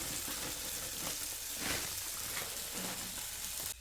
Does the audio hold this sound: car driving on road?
no